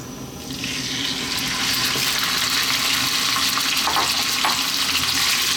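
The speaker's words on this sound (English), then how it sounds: "Next up, we're going to drop in our meat," Lamb or mutton pieces with a few bones and some fat dropped into hot spiced oil over high heat, the sizzle swelling quickly into a loud, close, continuous crackling hiss with a few bursts of spattering.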